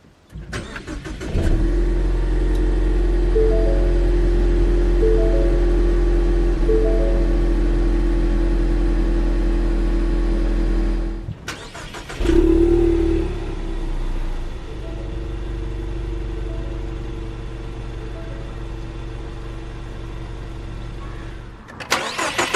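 A 2017 Ford Mustang EcoBoost convertible starts by push button: a brief crank catches into a loud flare, then settles into a steady idle. It shuts off briefly, restarts with another flare, and idles evenly again.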